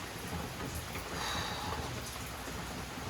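Steady rain falls in the Dominican Republic, a dense even hiss of drops throughout with no voices.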